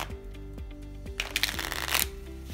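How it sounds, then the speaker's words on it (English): Deck of playing cards being shuffled up close, a quiet run of soft rhythmic flicks building to a brief louder riffle burst near the end. "So first we'll start by shuffling the deck."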